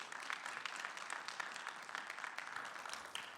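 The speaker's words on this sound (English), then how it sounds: "So please, a round of applause for our session today." A conference audience applauds at a tech security session, a soft, steady wash of many hands clapping at a distance, sustained throughout with no voices over it.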